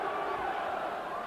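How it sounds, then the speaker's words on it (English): Boxing crowd chanting a fighter's name at an outdoor heavyweight bout, a loud, sustained mass of voices blending into a continuous roar. "Crowd chanting, Bruno, Bruno."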